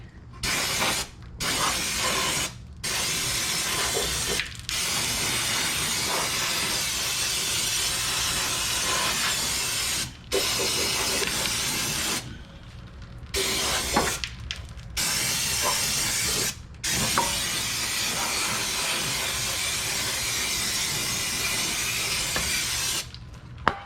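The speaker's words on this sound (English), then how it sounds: "I'm gonna spray a bunch of brake clean in here." Brake cleaner sprayed in long hissing bursts into the engine bay of a 2005 Honda CR-V near the front crankshaft seal, loud and close, with several short pauses between blasts.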